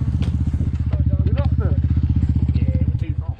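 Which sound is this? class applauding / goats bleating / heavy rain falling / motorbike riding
motorbike riding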